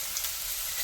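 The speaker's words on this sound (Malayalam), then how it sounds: "വെണ്ണയൊന്ന് ചേർത്തൊന്ന് വറുത്തെടുക്കണം" Chutney ingredients, including asafoetida, frying in butter, a steady close hiss and sizzle heard alone for under a second.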